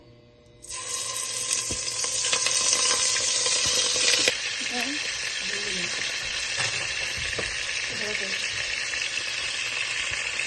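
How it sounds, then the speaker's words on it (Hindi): About a kilo of chicken sizzles loudly in hot oil in a karahi, the crackle starting abruptly and staying dense throughout, with occasional stirring scrapes and brief clinks. "फ्रेंड देखिए ये सारा चिकन मैंने ऑयल में डाल दिया है"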